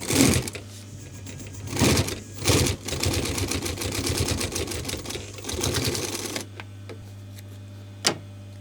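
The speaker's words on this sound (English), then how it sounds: "I can sew 2 pieces of plywood together" A sewing machine stitches through two pieces of plywood, running in several loud mechanical bursts with a steady hum, then stopping to a low motor drone broken by one sharp click near the end.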